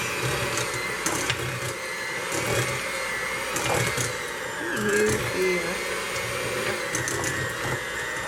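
Electric hand mixer beating butter for shamrock cupcake frosting, running on its low setting yet still fast, a steady whirring motor drone with faint rattles of beaters against the bowl, while people talk nearby.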